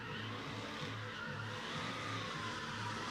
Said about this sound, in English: This truck motor rips, but it ain't an LS.